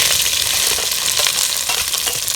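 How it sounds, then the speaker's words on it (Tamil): Sliced onions frying in hot oil with fennel seeds for a chicken curry, a steady dense sizzle held at close range throughout, with faint stirring scrapes and no talking. "வெங்காயத்தை போட்டுக்கலாம்."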